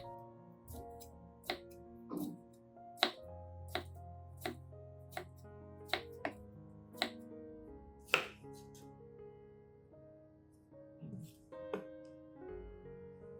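A knife chops carrot on a cutting board, making sharp, quiet knocks at an uneven pace of roughly one per second over soft tonal background sound.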